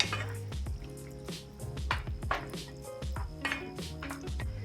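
Sweet and sour sauce tinted with food coloring stirred in a pot, a spoon clinking and ringing against the sides in quick irregular taps over a soft wet swish.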